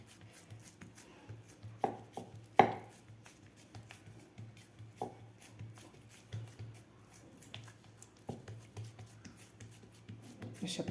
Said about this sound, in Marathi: थालीपीठ आपल्याला थोडंसं जाडसरच थापायचं आहे.